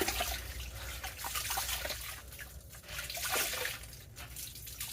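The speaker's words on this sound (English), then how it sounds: "I'm not wringing them out all the way because this water is super cold and my hands hurt." Wet laundry towels are wrung out by hand over a bucket of cold water, giving a soft, continuous trickle and dribble of water with faint drips, quiet and close.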